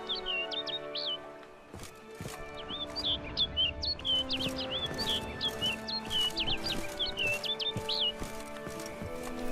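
A bird in Witcher 3 chirps in quick, high repeated tweets and short trills over a quiet ambient game soundscape, the calls clustering into a busy burst toward the end.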